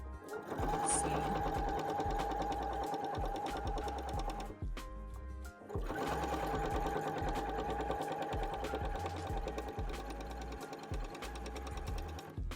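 A sewing machine stitches a leather wallet in a steady, close, rapid mechanical run, briefly pausing for a turn before resuming.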